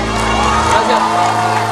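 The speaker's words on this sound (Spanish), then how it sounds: "El aplauso para Fer." A studio audience at a talent-show elimination gala cheers and whoops for a departing contestant, a noisy crowd roar with shouts and voices over musical backing.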